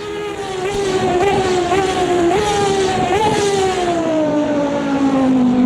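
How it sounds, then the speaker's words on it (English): Engine of the F1 GTR race car in Automobilista 2, heard from the chase camera: a loud, continuous high-revving drone that rises through gear changes, holding strong and alone for several seconds. "But in chase cam, this car sounds amazing."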